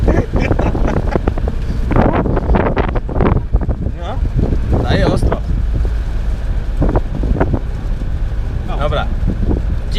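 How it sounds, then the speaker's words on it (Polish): Gusty wind rumbles and buffets the microphone throughout while people talk and shout close by. "Akurat to znowu wiatr."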